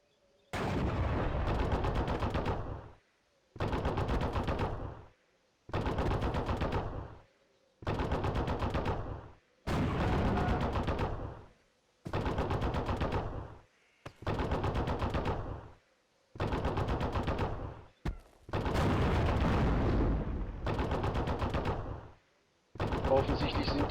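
Sustained MG42 machine gun fire in the World War II strategy game Steel Division: Normandy 44, loud and close, in roughly ten long bursts of about two seconds each separated by brief pauses.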